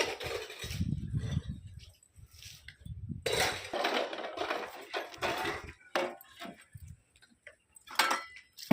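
Dishes, pots and pans being scrubbed by hand in a home kitchen, with irregular clinks, taps and scraping strokes of varying loudness, close by, with gaps of quiet between bursts.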